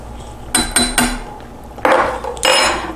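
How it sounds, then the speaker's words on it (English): A spoon scrapes and clinks against a pot of mulled wine, Glühwein, in a few sharp metallic strokes: three quick taps, a pause, then two longer scraping stirs, close and fairly loud. "And then we just stir this all together"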